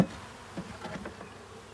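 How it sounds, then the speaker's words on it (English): Honey bees buzzing inside a package that has just been shaken down, a brief close hum after a sharp knock at the start. "Try not to get any bees underneath"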